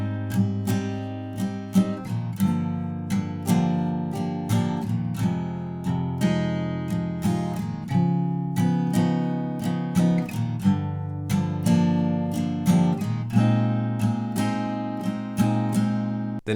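Acoustic guitar strumming the pre-chorus chords of a song, with each chord held for a full bar in a steady, long strumming pattern, clear and close with no talking.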